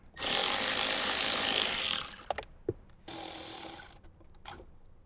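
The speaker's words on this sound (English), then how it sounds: "So we're going to go ahead and grab our tool. This is where the little extension comes in handy. We're going to remove these 2 screws." A powered driver removes two screws from the lower dash of a Jeep Wrangler JK. There are two close bursts of whirring, the first about two seconds long, separated by a few small clicks and knocks, with no speech.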